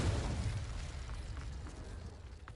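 A Confringo blasting spell erupts in Hogwarts Legacy, a heavy rumbling explosion whose low roar fills the clip and slowly fades, with faint debris crackles near the end.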